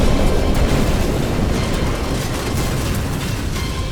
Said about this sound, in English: Did you ever see the montage of models being blown up for Terminator Salvation?